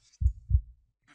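A heartbeat in the horror video game Real Horror Stories, two deep thumping beats in quick succession, loud and close against near silence.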